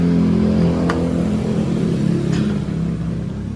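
Car engine idling steadily with the air conditioning switched off and no load, a constant low hum throughout with two faint brief clicks.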